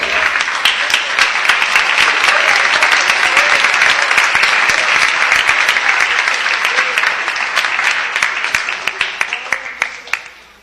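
A church congregation applauds hard and steadily for about ten seconds, a dense, loud wash of many hands clapping that thins toward the end.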